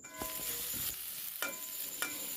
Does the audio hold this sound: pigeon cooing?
no